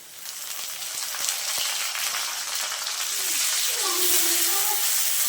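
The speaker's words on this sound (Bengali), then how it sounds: "এইগুলো এখন আমি একটু ভালোভাবে নাড়াচাড়া করে ভেজে নেব" Chopped onion and tomato fry in hot oil in a pan for egg musur dal, giving a steady close sizzle and hiss that swells toward the end, with brief stirring clicks.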